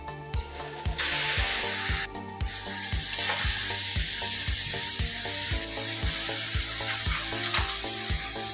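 Semolina being stirred in a pan while preparing gulab jamun, a steady sizzling hiss broken by repeated rhythmic scraping strokes of the spoon, close and fairly loud with no talking.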